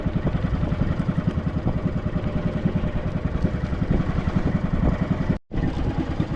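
Small fishing boat engine idling with a rapid, loud chugging putter in windy conditions, running steadily for over five seconds before a sudden brief cutoff, then a short burst of noise.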